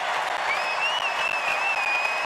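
Sold-out home crowd at Gonzaga's arena, the Kennel, roaring and applauding during a college basketball game against UC Irvine; a dense, sustained wall of cheering and clapping with a shrill whistle cutting through, steady and loud throughout.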